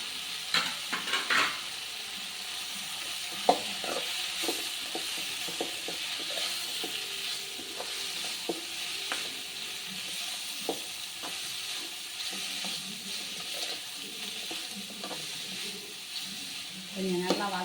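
Beans and carrots sizzle and fry in a pan while being stirred, a steady hiss broken by scraping and stirring clatter near the start, with someone talking quietly in the background.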